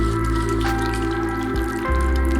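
Homemade cashew milk poured into a bowl, a soft continuous liquid trickle and splash heard close with no talking.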